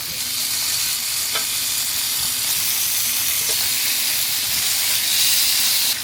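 BBQ chicken sizzling on a Ninja Sizzle Grill, a loud continuous hissing fry with a couple of faint clicks as the pieces are turned; no voice.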